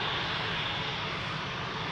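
Jet engines of a brand-new Embraer 195 E2 airliner, flight 266 to Warsaw, roar steadily at Amsterdam Schiphol airport, a loud, even broadband rumble that holds for the whole stretch with no talk.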